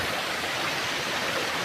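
A small stream at Okhari gives a steady, even rush of flowing water, close and unbroken, with no voices.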